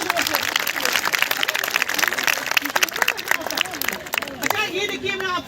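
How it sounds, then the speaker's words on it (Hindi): Clapping at a college gathering in Kathua, with scattered hand claps running through a loud, busy crowd hubbub and overlapping voices for several seconds. "तालियां बजाइए जोर से"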